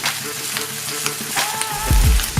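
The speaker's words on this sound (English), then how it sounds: "I also let the bacon fry in the same fat as the burgers." Bacon frying in leftover burger fat, a loud close sizzle and crackle with a few clinks and scraping stirs near the end, no voices.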